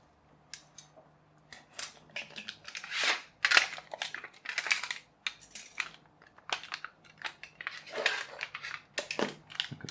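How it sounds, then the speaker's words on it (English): Close, crisp snipping of scissors cutting through silicone sealant material while building a pop pop boiler, coming in irregular bursts of quick cuts with short pauses between. "You can cut this with scissors or tin snips."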